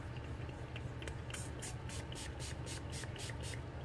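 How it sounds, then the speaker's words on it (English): Short repeated hissing spritzes of candy corn scented spray onto a hand, about eight quick bursts in a row, faint over a low background hum. "I'm going to spray a little on my hand."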